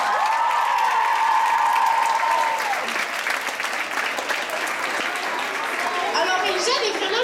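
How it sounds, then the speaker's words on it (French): An audience claps and cheers in a dense, sustained round of applause, with a held tone at the start and chatter rising toward the end. "Ça mérite une bonne main d'applaudissements."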